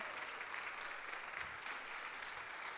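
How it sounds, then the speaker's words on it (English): A church annual meeting audience claps together in steady, dense applause to elect by acclamation, a continuous patter filling the room with no break. "We do not need to vote, we just need to clap"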